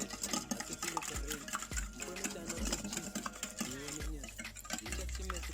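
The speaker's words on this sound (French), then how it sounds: "Et je mélange à nouveau." Crêpe batter stirred in a bowl with rhythmic scraping and soft knocks of the utensil against the sides, faint and steady, with a quiet voice talking underneath.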